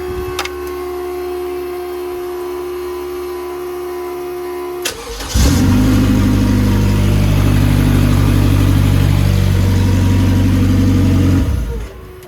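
A car engine cranks and catches after a fuel-pump check, then settles into a loud, steady run close by for several seconds before cutting off near the end; a quieter fuel-pump hum is heard beforehand.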